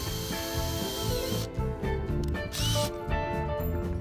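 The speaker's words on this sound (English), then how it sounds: "Then I re-drilled the holes for the new rivets." A drill bores rivet holes in a metal spinnaker pole on a pontoon, a steady whirring drone with shifting pitch that runs for about four seconds, close and fairly loud.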